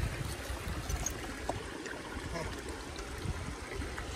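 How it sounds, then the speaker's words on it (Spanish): The Lempa River flows steadily in El Salvador, a continuous rushing and trickling of water heard up close with no breaks, forming a dense outdoor backdrop throughout. "Cruzando el río Lempa."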